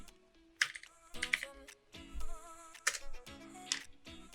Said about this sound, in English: So we type in wiggle.